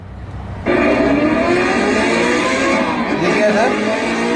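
A steady synthetic engine-like rumble from an ODI Motors electric scooter's fake silencer sound effect switches on abruptly and drones loudly and continuously, imitating a motorbike exhaust, with faint voices mixed in.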